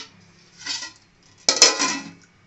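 A plate and lid set onto a pot of broken jowar grits on the stove for jonna sankati: a soft scrape, then a sharper metallic clatter and clink about a second later, close and fairly loud with no talk.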